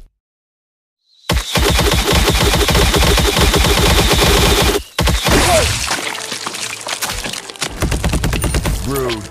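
Rapid bursts of game gunfire in the Bowmasters mobile game, loud and dense with crackling, splintery impacts, a brief gap, then further shots and clatter continuing to the end.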